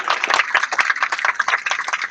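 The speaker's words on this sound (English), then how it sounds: "Give her a round of applause." A crowd claps steadily in a dense, even patter, sustained without a break.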